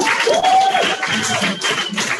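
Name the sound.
applause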